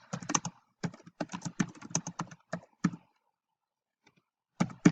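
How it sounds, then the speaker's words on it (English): Bursts of fast typing on a computer keyboard, close and fairly loud, in irregular runs with short pauses and a longer silence before a final flurry. "we're just gonna type in the example"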